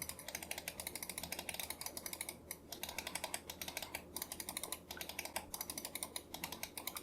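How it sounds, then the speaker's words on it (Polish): Main buttons of a Secret Gear ZX1 gaming mouse clicked quickly and repeatedly, soft close clicks in dense rapid bursts with brief pauses between them. "Duży skok przycisku i dość miękki klik, jeśli chodzi o przełączniki główne."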